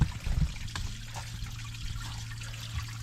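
Water trickles and flows steadily through a channel beneath an old stone road outdoors, a continuous close rushing wash with a low rumbling undertone.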